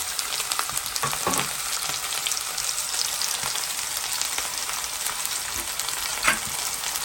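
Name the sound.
onions frying in pan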